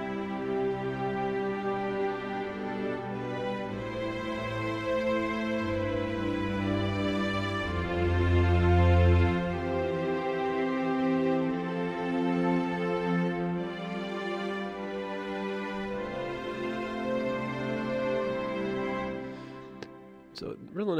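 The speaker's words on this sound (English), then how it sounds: "So just a general string sound." A general synthesizer string patch plays sustained, layered chords that swell and change, fairly quiet and sounding alone, with a brief click near the end.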